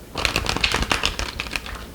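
A tarot card deck is shuffled quickly by hand, giving rapid riffling clicks and soft flutters in a short close burst of a couple of seconds.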